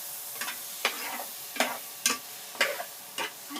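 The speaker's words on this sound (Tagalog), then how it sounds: "Tapos, haluin na po natin." Vegetables are stirred in a sizzling frying pan, with a spatula scraping and clacking against the pan about six times in a loose rhythm over a soft, steady fry.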